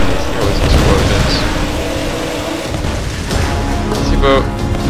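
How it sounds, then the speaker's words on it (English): Loud, dense booms and crashes in the video game Tomb Raider roll together with rumbling mechanical noise, continuous and chaotic throughout. "Goodness, there was explosions"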